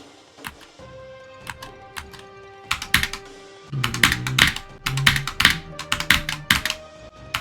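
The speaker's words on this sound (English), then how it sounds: "I guess my hand is resting on my keyboard." Irregular bursts of keystrokes on a computer keyboard during a gaming stream, close and fairly loud, with clustered clicks and pauses over a low background hum.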